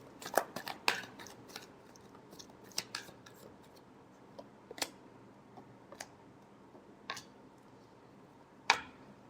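Tarot cards being shuffled by hand, giving quiet, scattered crisp snaps and flicks with short gaps between them, one sharper slap near the end.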